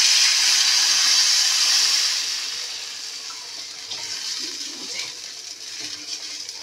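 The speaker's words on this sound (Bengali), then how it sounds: "এবার জল দিয়ে দিই।" Water poured into a cooking pan of fried ingredients, a loud steady hiss and splash for about two seconds that then settles into a quieter simmering fizz.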